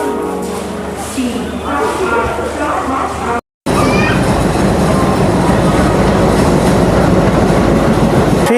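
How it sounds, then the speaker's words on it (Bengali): A train rolls into platform 8 at a Kolkata station loudly with steady rumbling and rhythmic clatter of wheels, after a stretch of busy station noise with voices in the background. "চলো আগে অপেক্ষা করি নতুন একটা জার্নির উদ্দেশ্যে আমাদের ট্রেন আসুক এটা হচ্ছে আট নম্বর প্ল্যাটফর্ম"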